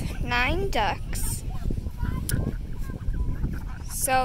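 Farm ducks, eight brown and one white, let out loud, close quacking calls, with a cluster at the start and another at the end over steady outdoor background noise.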